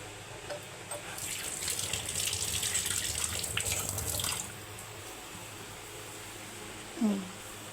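Running tap water splashes steadily over eggs being washed for a few seconds, then stops; quiet room noise follows with a brief faint squeak near the end.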